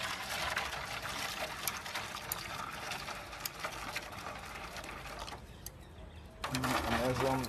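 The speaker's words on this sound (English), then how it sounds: "what I might do is just top them up with some boiling water" Boiling water poured into a leaking rib tray on a Weber grill: a continuous hiss and trickle that runs steadily, briefly drops away, then returns with a gurgling splash. A voice speaks over it.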